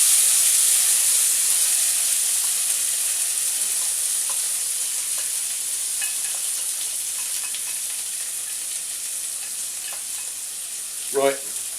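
Mixed vegetables, peas, sweet corn, Brussels sprouts and broccoli, sizzle and hiss steadily as they stir-fry in a hot pan, a continuous loud frying crackle with occasional stirring clatter and a brief knock near the end.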